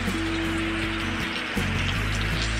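Heavy monsoon rain pouring down in a Konkan village near flooded fields, a dense, steady roar of drops drumming on surfaces, loud and continuous throughout.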